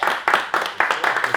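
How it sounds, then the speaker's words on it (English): A small group at a film wrap party claps briefly, a few uneven bursts of hand claps close by with gaps between them. "I'd like to everyone give each other a round of applause"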